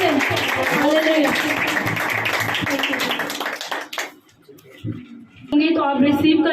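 A church congregation claps loudly in praise during a worship service. The clapping is dense and continuous under singing or talk, then drops away briefly before resuming.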